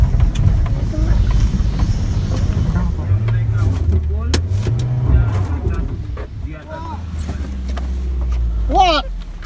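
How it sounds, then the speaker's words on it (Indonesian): A car rolls past nearby with a low engine rumble that rises and falls, heard over wind buffeting and people talking. "tapi ada mobil"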